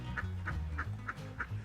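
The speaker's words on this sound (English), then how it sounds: "Oh, that is a gorgeous duck." A duck at a park in Adelaide, Australia gives five short, evenly spaced quacks, faint and somewhat distant over a low background rumble.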